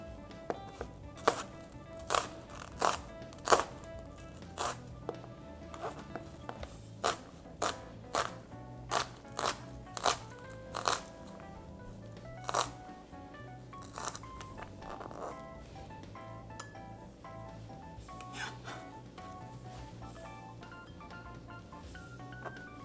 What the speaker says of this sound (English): I can hear the knife needs sharpening.